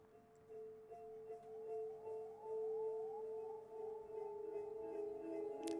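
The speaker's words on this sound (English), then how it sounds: "So with the Valhalla Supermassive, which is the only effect I added, it sounds like this." A bell melody washed in Valhalla Supermassive reverb rings out as sustained shimmering tones that blur into one another, faint and spacious in wide stereo, with no voices.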